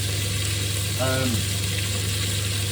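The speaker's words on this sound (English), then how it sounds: "I've got the cooker hood on and everything" A kitchen cooker hood extractor fan runs in a steady, loud hum with a constant low drone while a steak cooks nearby; a brief voice cuts in near the middle.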